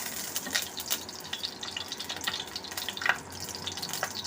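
Two big spoons of mustard oil heat in a pan, giving a steady low hiss and faint sizzle with scattered small crackles and pops.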